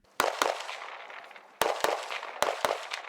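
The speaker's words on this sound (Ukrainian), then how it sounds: "Як правильно стріляти з різних позицій і рук бійцям показує командир роти Дмитро." Several sharp gunshots ring out in pairs at a military shooting drill, loud and close, each cracking with a short echo tail, separated by brief pauses.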